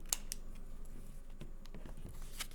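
Scissors snip through a paper roll during a kids' polar bear craft, a few quick, sharp cuts spaced irregularly over a couple of seconds, close and fairly quiet, with no talking.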